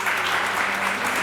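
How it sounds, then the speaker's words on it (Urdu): A studio audience at a television entertainment show claps in a dense, even burst of applause, close and loud, with no voices over it. "رباب کے لیے بہت ساری تالیاں"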